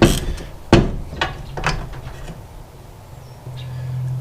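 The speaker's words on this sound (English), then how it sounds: "we just need to remove this bolt, which goes through to the other side of the kickstand" Metal tools work a kickstand bolt on a Honda MT250 motorcycle frame, giving a sharp clank followed by a few lighter ratcheting clicks and taps, close and fairly quiet, with a low steady hum in the background.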